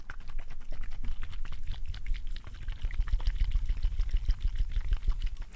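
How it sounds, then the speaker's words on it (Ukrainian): Water is poured in a continuous, close splashing and trickling stream during an ASMR session, with a brief dip midway before it resumes. "досить, досить мені не подобаються звуки води."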